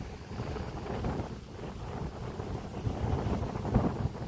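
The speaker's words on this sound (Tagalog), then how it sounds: "Mahangin na ngayon" Wind from a typhoon buffets the microphone at Dolomite Beach in a low, steady rumble that swells slightly toward the end, with no voices.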